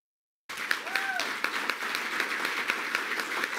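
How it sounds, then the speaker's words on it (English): Applause bursts out at a transit agency board meeting after a moment of silence, then continues as a steady crowd of clapping hands with a few sharper individual claps, while a voice briefly sounds early on. "Let's give them a big round of applause here."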